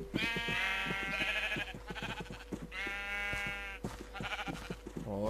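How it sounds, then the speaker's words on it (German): Sheep in the Minecraft video game bleat repeatedly, several loud wavering calls following one another closely, with game sounds and faint background noise in between. "Brave Schafe."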